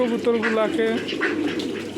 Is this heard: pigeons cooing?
yes